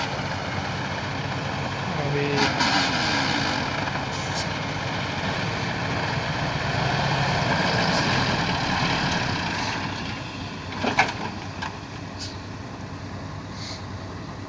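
Garbage dumper truck loaded with rubbish, stuck in a heap with carpets laid under its tyres, its engine rumbling steadily throughout with faint hissing and a brief knock, while people talk nearby.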